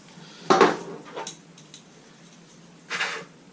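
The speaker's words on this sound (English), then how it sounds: "Now, you want to drain your corn of all the juice." Metal clatter of a large can of corn being tipped to drain its juice: a sharp clank, a softer knock, then another clink a couple of seconds later, close and alone.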